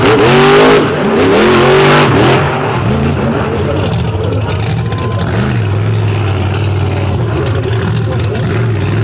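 Big monster truck engines rev loudly at a nighttime monster truck battle by Lake Erie, rising roars in the first seconds then a steady heavy drone, with an announcer talking over the din.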